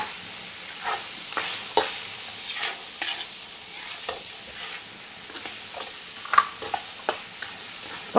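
Pickled crunchy cucumber being stir-fried into preserved-meat (lap mei) fried rice in a wok, with a steady close sizzle and repeated scraping spatula strokes at an uneven rhythm, no talking.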